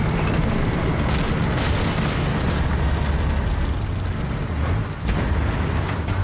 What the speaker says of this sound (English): I'm gonna blow up this tank zone too